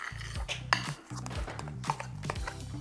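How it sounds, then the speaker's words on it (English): Spoon or utensil scraping and clinking against a bowl while blue food coloring is stirred through buttercream icing, a few sharp taps amid soft scraping, close and quiet. "So a few drops of blue food coloring and just mix it through."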